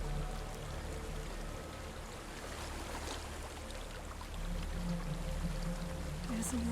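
Water flowing steadily in the video game Hellblade: Senua's Sacrifice, a continuous pouring, rushing stream heard close up, with a faint voice at times.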